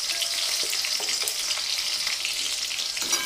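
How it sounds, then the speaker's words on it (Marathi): Green chillies fry in hot oil with a continuous bright crackling sizzle and scattered popping, close and steady, without any talk. "आता चांगल्या तडतडायला लागलेल्या आहेत मिरच्या"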